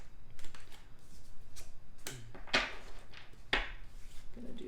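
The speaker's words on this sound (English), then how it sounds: "I'm having a hard time shuffling today." Tarot cards are shuffled up close, quiet riffling and shuffling bursts with a couple of sharper flutters and soft taps between them.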